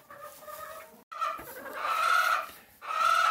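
Homestead farm chickens cluck in a close, busy chorus of short, overlapping calls, with a brief pause partway through before the clucking resumes loudly.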